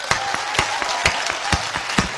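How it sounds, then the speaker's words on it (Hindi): An audience at a Hindi poetry gathering (kavi sammelan) claps in a rhythmic, evenly spaced pattern, roughly two beats per second, moderately loud in a hall. "पूरे सदन की ताली यहां बजनी चाहिए।"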